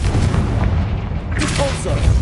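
A Confringo explosive spell goes off in a wizard video game, with deep booming blasts and rumbling debris. A voice shouts over the action.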